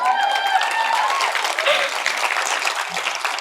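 An audience at a university convocation ceremony applauds with dense, steady clapping that fills the whole stretch at close range, a few faint tonal squeals mixed in early on.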